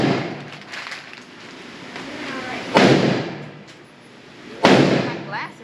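Two sharp Glock pistol shots ring out about two seconds apart at a range, each a sudden loud crack with a short decay, over low background murmur and faint talk.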